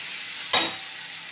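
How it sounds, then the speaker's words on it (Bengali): Capsicum and mixed vegetables fry in a pan with a single sharp stir that brings a brief burst of sizzle, which fades back to a quiet low frying hiss. "দিয়ে ভালো করে আরেকটু ভেজে নেব"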